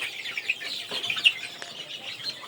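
Native desi chickens on a farm in cold winter weather give a steady stream of high, thin peeping chirps and soft clucks, with a few slightly louder calls standing out.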